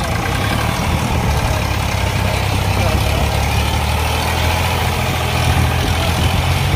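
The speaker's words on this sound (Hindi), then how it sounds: "दोस्तों बहुत पावर दिखा रहा है ट्रैक्टर" A 2022 three-cylinder Swaraj tractor engine roars steadily under full load, a loud, dense, unbroken low rumble and clatter close by with no break or change in pitch.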